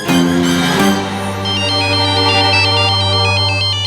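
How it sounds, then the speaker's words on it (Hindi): Phone ringtone sounding for an incoming video call, loud and close, a bright repeating electronic melody over a steady tone, with no voices. "ये लीजिए, उनका वीडियो कॉल आ ही गया।"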